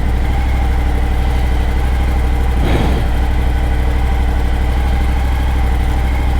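A Kawasaki motorcycle engine runs steadily at a loud, close idle with a constant low rumble, alone and without any voices.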